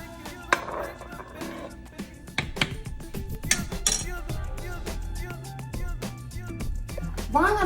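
A spoon scrapes and clinks against a pot while a cream sauce is stirred as it thickens, with sharp metallic taps and knocks scattered through a steady kitchen background; no one talks.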